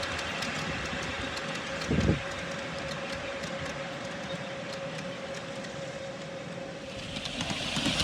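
A 5-inch gauge riding truck, built as a London Transport 17D inspection car, runs steadily along a miniature railway track with a continuous rolling rumble, a faint whine and one heavier clunk partway through.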